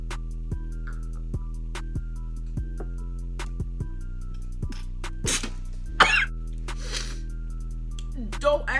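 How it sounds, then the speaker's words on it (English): A woman coughs hard several times after choking on a drink, bursts of loud spluttering coughs and throat clearing in the second half over a steady electrical hum and faint clicks. "I was drinking and then I had to cough. So I coughed my drink."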